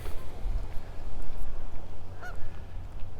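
Geese and ducks by a city lake, with a few scattered honks heard at moderate distance over steady wind and low outdoor rumble.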